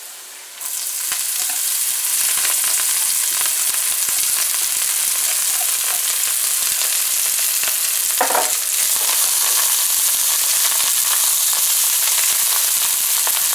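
Egg ramen noodles frying in a pan with seasonings added, a loud, steady sizzle starting abruptly after a brief quiet moment and holding continuously, with a short stirring scrape midway.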